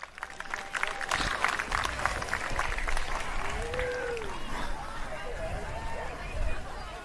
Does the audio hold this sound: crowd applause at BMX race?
yes